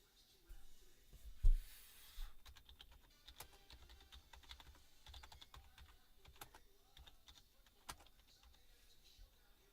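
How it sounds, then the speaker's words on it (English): Quiet, irregular clicking of keys on a computer keyboard, with scattered sharp taps and a faint low background hum; one louder thump occurs early on. "typing them in there."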